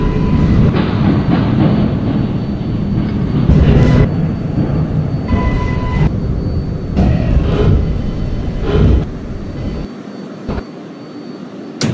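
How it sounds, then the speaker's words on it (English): A 7 train bound for 34th Street–Hudson Yards runs in a Roblox subway game, a steady loud rumble and rolling drone with brief louder surges, easing to a quieter hum near the end; no one talks. "This is a 34th Street Hudson Yards bound 7 train."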